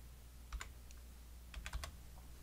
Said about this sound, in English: I'm going to type previous